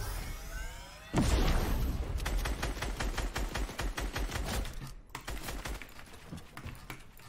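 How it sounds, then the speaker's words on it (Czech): Gunfire in a Marvel-skinned shooter game crackles as a fast series of evenly spaced rapid shots, close and moderately loud, running several seconds after a sudden onset. "střílí po mně."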